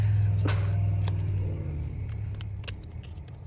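Truck engine rumbling nearby, a loud low idle drone that fades somewhat after the first second, with faint clicks and small handling noises over it.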